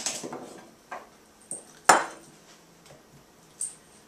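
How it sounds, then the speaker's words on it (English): A knife chops carrots on a cutting board in a handful of separate, irregular knocks, one notably louder, with quiet gaps between strokes. "I've got all my carrots here. Ends of them on, I have washed them, but I'm just going to chop them up."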